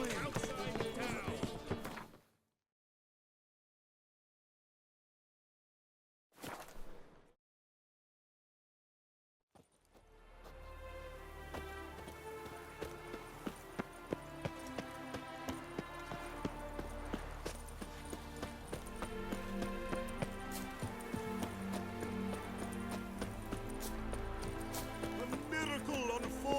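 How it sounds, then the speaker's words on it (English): Rapid hoofbeats drum steadily as a horse gallops in The Witcher 3, building under busy game music after a couple of short bursts and a pause. "Look at that horse barrel ahead!"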